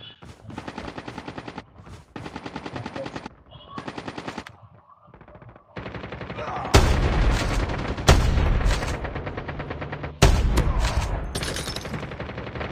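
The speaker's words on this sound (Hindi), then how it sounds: "ओए भाई कोई स्नाइपर से दे रहा रे" Gunfire in the Call of Duty Mobile game, with rapid automatic bursts in short strings and a few heavy, louder single blasts later that could be sniper shots, close and intense, with no talking.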